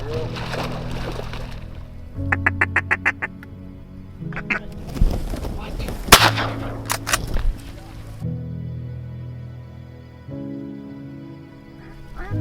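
Ducks call during a Kansas duck hunt, with rapid bursts of quacking and duck-call blasts over water and marsh noise, mixed with people speaking in low voices.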